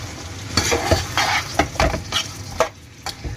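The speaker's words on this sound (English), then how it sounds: "Let's cook it on a high heat." Food stirred in a hot pan over high heat, with a steady sizzle under repeated scraping and clinking strokes of a utensil against the pan, close and loud with no voices.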